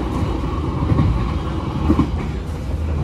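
Business-class cabin of the KA Banyubiru train at speed, a steady low rumble of wheels and carriage with faint rhythmic clatter, continuous and enclosed, no talking.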